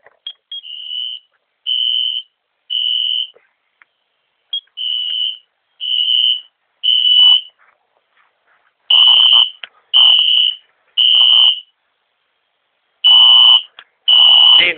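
A fire alarm sounds during a system test in repeated loud beeping bursts with brief silences between, evenly spaced at first, then in longer clustered blasts.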